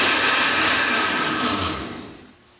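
A blender roars loudly at close range blending a protein shake, then winds down and fades out near the end.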